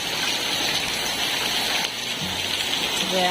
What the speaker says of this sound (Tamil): மழை பெஞ்சிட்ருக்கு பயங்கர மழை